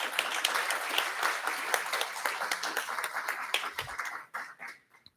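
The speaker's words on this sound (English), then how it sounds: "the seafarers and the entire shipping community needs a huge round of applause for their efforts." Audience applause at a seafarers' annual crew conference, a crowd clapping with distinct sharp hand claps that thin out and fade to silence at the end.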